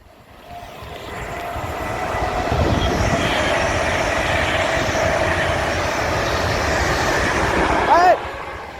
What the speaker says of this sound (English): just like trains going fast, speeding down the station